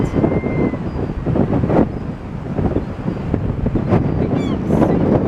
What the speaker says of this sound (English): It's super windy, which is great.